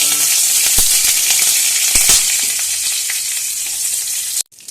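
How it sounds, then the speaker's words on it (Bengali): Cardamom, bay leaf and dried chilli hit a small amount of hot oil with a loud, steady sizzle and crackle that stops abruptly at the end. "ফোড়নে দিয়ে দেব একটি এলাচ তেজপাতা শুকনো লঙ্কা"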